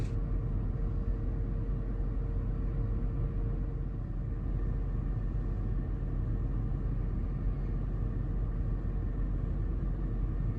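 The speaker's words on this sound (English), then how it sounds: "I started up a vehicle out of the parking lot after it had some time to cool" Range Rover with a leaking radiator pulling out of a parking lot after cooling down, a steady low engine rumble heard from a distance, constant and unbroken without voices.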